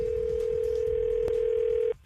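A telephone dial tone hums in one steady, clear tone for about two seconds as a call is placed, then cuts off abruptly.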